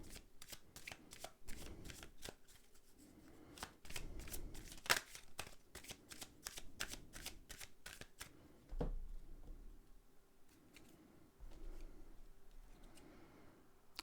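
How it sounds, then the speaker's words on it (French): Cards being shuffled and laid down on a spread for a card reading, rapid soft flicks and riffles close by, faint with a quiet background hum and occasional soft thumps. "Je vais remettre quelques cartes dessus."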